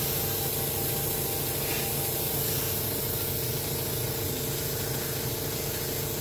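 An airbrush sprays paint over rivets in a steady, continuous hiss that stays close and even throughout, with no pauses or voices.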